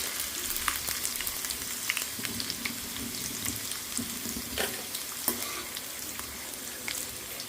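Food frying steadily in hot oil for a Telugu home-style dish, a continuous crackling sizzle with occasional sharper pops and light stirring scrapes, close and fairly loud, no voices.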